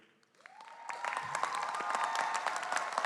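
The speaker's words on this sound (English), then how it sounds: "applaud all your family members and friends who are here supporting you today" Graduates at a college commencement ceremony break into applause for their families, a soft start swelling within a second into sustained, dense crowd clapping that holds steady.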